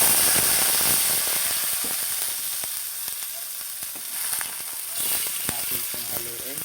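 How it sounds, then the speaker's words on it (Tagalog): Chicken gizzard hits a hot pan with a loud burst of sizzling that slowly eases into steady frying crackle, with clicks and scrapes from stirring nearby. "Saka natin guys ilagay ang gizzard."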